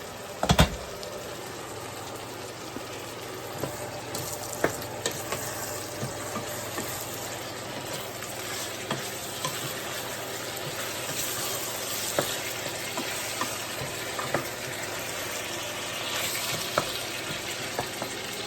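Tomatoes fry in a pan with kale and okra, giving a steady close sizzle and crackle with occasional sharp pops and stirring scrapes, no voices.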